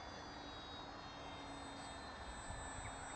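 Inexpensive model airplane costing around £120 in flight, a thin, steady high-pitched motor whine that stays faint and distant against a constant background hiss.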